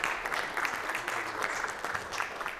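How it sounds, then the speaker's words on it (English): An audience at an outdoor park concert claps steadily in dense, continuous applause. "Give him a big round of applause."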